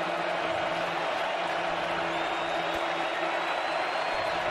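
A dense, constant roar fills a road college football stadium as Missouri plays at Georgia, steady and broad with no distinct cheers standing out.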